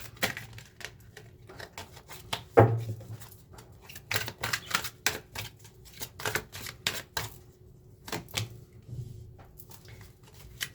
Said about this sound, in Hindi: जब तक मैं कार्ड शफल कर रही हूँ टॉरस